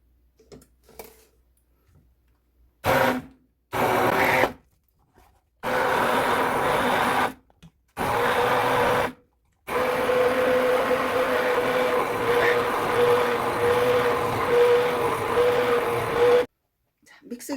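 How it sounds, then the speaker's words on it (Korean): A blender grinds chili powder with vegetables for Korean water kimchi, whirring loudly in several short pulses before one long continuous run, then stopping. "여기다가 고춧가루 한 2스푼 정도 넣고 또 갈게요."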